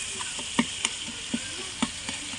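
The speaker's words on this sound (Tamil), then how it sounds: "தக்காளி நல்லா வதங்கி இப்போ வந்துட்டு எங்கள் மேம் தான் கிண்டிக்கிட்டு இருக்காங்க" Tomatoes sauté in a pan while someone stirs them. A soft, continuous sizzle runs throughout, broken by several light scraping and tapping knocks from the spoon at irregular intervals.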